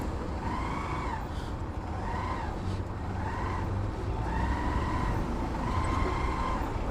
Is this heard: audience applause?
no